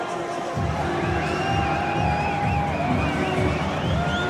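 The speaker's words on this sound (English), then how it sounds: "The crowd's getting boisterous." Stadium crowd at a USA v Russia rugby union match in New Plymouth, New Zealand, a dense roar of cheering and whoops swelling after a quiet first half-second and holding steady and loud, with scattered shouts rising above the babble.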